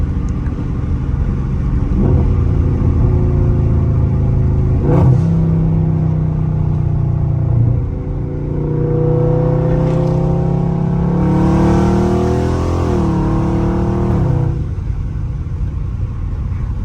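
A Dodge Scat Pack car engine rumbles steadily and revs up in swells in traffic, the pitch climbing and falling a few times, loud and close with no voices.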